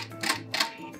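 Sewing machine backstitching at the end of an edge-stitched seam, two or three quick mechanical bursts of clatter within a second, fairly quiet and close.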